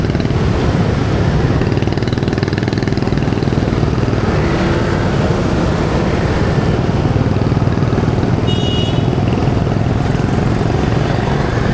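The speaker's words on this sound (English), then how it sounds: "Talk about single-handed motorbike riding" Motorbike riding through street traffic on a Saigon morning, a steady dense engine drone with passing vehicles and continuous traffic noise throughout, fairly loud and close.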